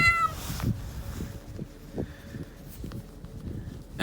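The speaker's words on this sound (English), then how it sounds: "Look out, kitty." A house cat lets out a clear meow right at the start, followed by soft shuffling and light thumps nearby.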